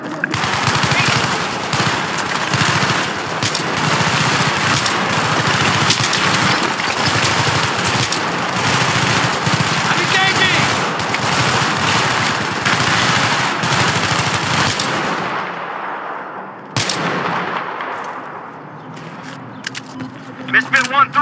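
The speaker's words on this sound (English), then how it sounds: "We're taking fire." Rapid automatic gunfire from a Battlefield 3 firefight, dense and continuous bursts for most of the stretch with a voice over it, then thinning into scattered shots and quieter pauses near the end.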